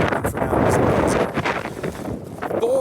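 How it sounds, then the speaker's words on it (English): Strong wind gusts buffet a microphone outdoors at a solar-powered portable HF radio setup, a steady broadband rush with rumbling low-end bursts, and someone talks over it briefly. "Boy, it is windy."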